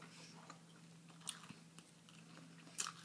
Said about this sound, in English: Waffles take a long time to chew.